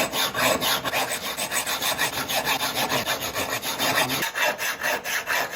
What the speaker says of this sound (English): we're gonna use hacksaw to cut the bolt off